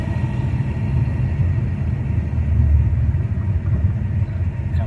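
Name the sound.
VZ HSV car engine, 6L80 gearbox downshifting while braking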